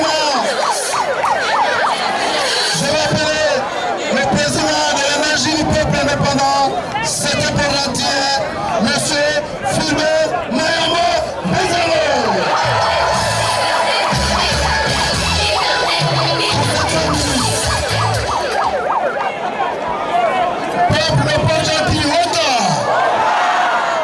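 A large crowd cheers and shouts for the president at a Gabonese public address, with loud, sustained acclamation and whistling rising and falling throughout, mixed with voices.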